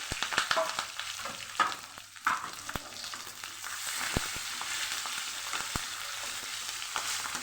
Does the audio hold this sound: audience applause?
no